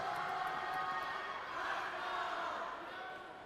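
Steady crowd roar and cheering fills an indoor pool arena at the 2021 Oklahoma Swimming State Championships finals, sustained throughout and gradually easing toward the end.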